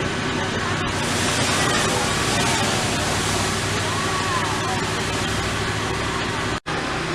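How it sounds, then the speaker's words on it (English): A fire hose at a fire and sprinkler burn demonstration discharges around 200 gallons of water a minute, a loud, broad, continuous rushing hiss that cuts off abruptly near the end, with voices faintly beneath. "this hose is going to discharge somewhere around 200 gallons of water a minute"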